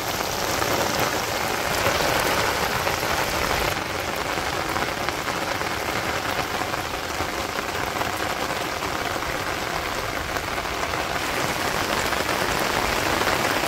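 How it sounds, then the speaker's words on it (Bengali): Rain falls again over a Bangladeshi village, a continuous close wash of drops pattering on surfaces, holding at an even level from start to finish with no one speaking. "আবারও জুড়ে বৃষ্টি নামতেছে"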